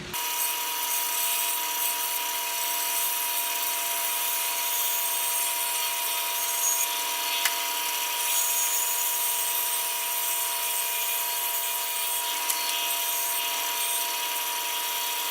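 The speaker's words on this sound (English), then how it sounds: "I'll be cutting on the bandsaw." A bandsaw cuts a wooden bottom piece for a DIY storage bench, giving a steady, loud, continuous whir with faint tonal hum throughout, with no talking.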